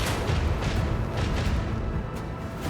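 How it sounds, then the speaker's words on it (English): Ship weapons fire at incoming torpedoes in Rogue Trader as a dense, loud wall of booming blasts and rumble, with repeated heavy impacts blurring together. "Let's shoot the torpedoes."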